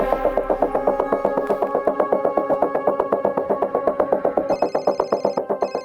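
A telephone rings with a fast, steady electronic trill that repeats without pause, loud and close, with no voices.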